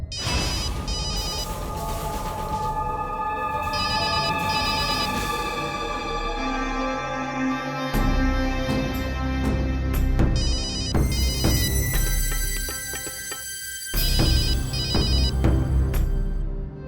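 A melodic phone ringtone plays loudly and continuously, its tune repeating over and over with no one answering.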